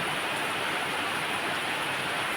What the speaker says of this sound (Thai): ฝนตกขนาดนี้นะครับ